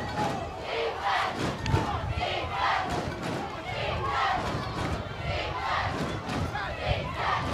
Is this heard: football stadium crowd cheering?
yes